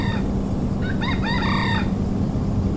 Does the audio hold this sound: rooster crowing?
yes